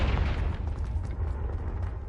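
Confringo blasting spell detonating in Hogwarts Legacy, a dense rumbling boom with heavy low-end that rolls on steadily through the whole short stretch, loud and close with no voices.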